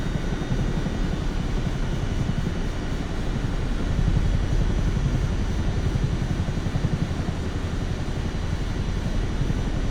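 Steady, loud engine drone of an aircraft cruising at around 150 knots in Microsoft Flight Simulator 2024, a constant low rumble with no voices and no change in level.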